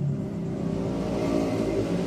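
A Nissan Grand Livina engine runs steadily at a constant, even hum with a faint whir from the belt-driven parts. The sound is close and stays unchanged the whole time.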